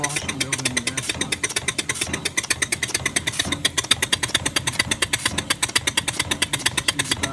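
An Allen American model locomotive runs on compressed air, giving a rapid, steady chuffing exhaust beat that stays loud and close throughout, with a faint voice underneath.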